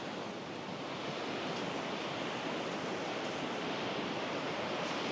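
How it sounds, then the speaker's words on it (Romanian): Fast-flowing Euphrates River in Turkey rushing beneath a swaying footbridge, a loud, continuous broadband roar of churning water that holds steady throughout with no voices. "Uitați ce rapid e acest râu"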